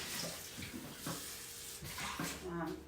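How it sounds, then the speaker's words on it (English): A bowl is rinsed under a running kitchen tap, with a steady splashing water rush throughout and brief bursts of people talking over it. "We're going to pull this over here and rinse this out."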